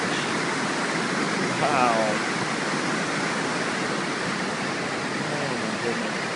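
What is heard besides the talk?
water rushing into a lake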